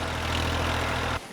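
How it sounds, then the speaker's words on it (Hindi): A tractor engine runs on a farm field, a steady loud low rumble close by that cuts off abruptly near the end. "ये ट्रैक्टर से पूरा खेत जोत दे"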